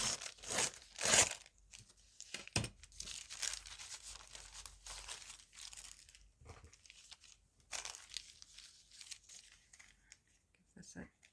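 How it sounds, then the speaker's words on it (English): Tissue paper is torn against a ruler in several short, crisp rips and crinkles, close by and fairly quiet, with a few pauses between them. "I think I can tear it with my ruler, given that it's tissue paper instead of napkin."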